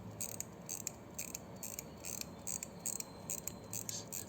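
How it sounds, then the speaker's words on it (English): An antique Swiss-made pocket watch with a porcelain dial is wound with a key, giving a quiet series of small ratcheting clicks in an irregular rhythm, close up and alone. "After bringing the needle to 7:45, pressing, and I am going to wind it key."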